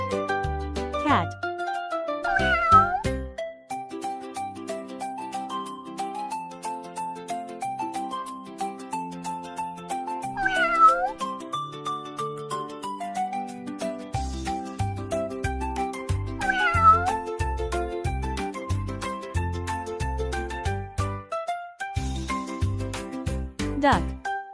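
Three distinct cat meows, each rising and falling, are heard several seconds apart over light, continuous background music with a plucked bass pattern.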